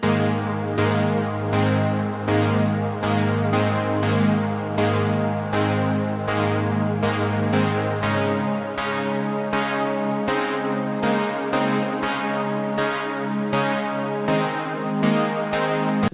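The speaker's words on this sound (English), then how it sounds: "The preset is called Stranger Things from Baby Audio's BA1 synth." Layered 80s synthpop chords from the Stranger Things preset on Baby Audio's BA1 synth, sustained bright tones pulsing in a steady fast rhythm, a deep low layer dropping away midway, loud and alone.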